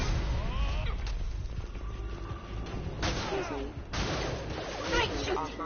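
Gunfire in a space combat video game, repeated bursts of shots and blasts over a constant dense background, with sharp hits around the middle and toward the end.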